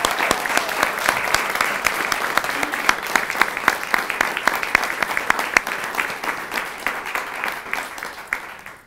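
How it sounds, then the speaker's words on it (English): Steady, loud applause fills a naturalization ceremony on the Fourth of July at Bandelier National Monument, dense continuous clapping from a large crowd that tapers slightly at the end. "One more round of applause"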